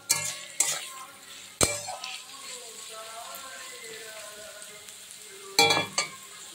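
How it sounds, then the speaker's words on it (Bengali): Potatoes fry with salt and turmeric in a pan, a soft sizzle running beneath several sharp scraping knocks of a spatula as they are stirred, close and fairly quiet. "লবণ আর হলুদ দিয়ে আবারও আলুগুলোকে আমি নেড়ে নেব।"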